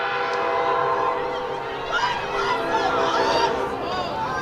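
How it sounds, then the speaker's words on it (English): A train horn sounds in a sustained, slightly wavering blast, loud and fairly near, with rail rumble and a voice faintly underneath, from a passing Metra commuter train at a women's lacrosse game. "You're hearing that train horn?"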